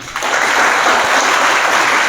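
An audience at a Teachers Day event breaks into loud, sustained applause, a dense clapping that rises quickly and holds steady for about two seconds.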